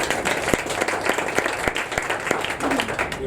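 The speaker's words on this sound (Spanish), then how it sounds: "Un aplauso para él, por favor." An audience at a Spanish talk on agile methods applauds the speaker, with scattered distinct claps standing out over a softer, moderate background of clapping.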